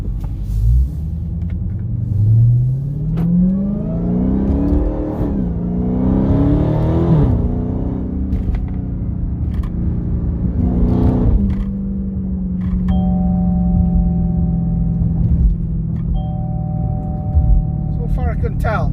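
A 2021 Dodge Charger Hellcat Widebody with a manual gearbox rumbles and revs up through several gear changes, the exhaust note rising and falling, with a steady drone underneath and a voice speaking over it.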